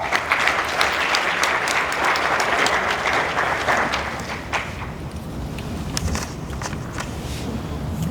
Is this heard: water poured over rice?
no